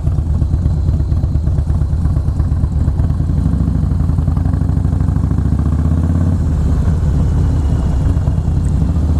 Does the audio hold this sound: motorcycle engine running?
yes